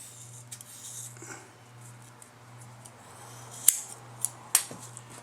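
Scissors make a few sharp snips through dense tablecloth fabric at its folded center, close and distinct over a low steady hum with no talking.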